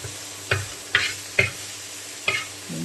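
A spatula scrapes through a paneer mixture frying in a little oil in a pan, four distinct stirring strokes over a low, steady sizzle with no talking.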